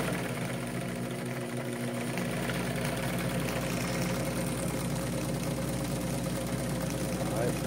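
A vintage Japanese-made Modernage Model 770 Super Automatic zig zag sewing machine runs with a continuous, even motor hum and rattle, loud and close throughout.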